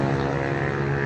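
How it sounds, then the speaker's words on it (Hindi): A motorbike ridden out nearby gives a steady, loud engine drone with a harmonic hum that carries unbroken through the whole moment, with no voices over it. "कोई बाइक बाहर लेके निकल रहा था, काफ़ी शोर आ रहा था उसका"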